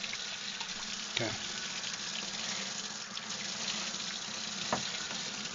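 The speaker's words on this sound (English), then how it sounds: "I really wish this water would stop squirting out the back." Water squirting and hissing from the back of an aquarium siphon, a continuous fizzy spray with a couple of sharper splashes, fairly close and moderately quiet, no speech.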